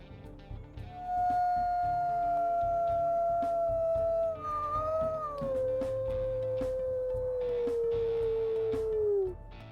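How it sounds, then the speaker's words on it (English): A gray wolf in the video game WolfQuest lets out a single long, clear howl that starts high, wavers briefly, then slowly slides downward over about eight seconds, loud and alone over a faint ambient background. "And we'll also go ahead and listen to his howls."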